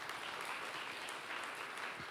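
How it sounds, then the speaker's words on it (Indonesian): Steady, dense applause from a church congregation during a sermon, a continuous wash of clapping from many hands filling the space for the full stretch without a break. "Tepuk tangan buat Tuhan."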